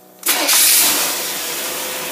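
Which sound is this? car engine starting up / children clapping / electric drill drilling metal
car engine starting up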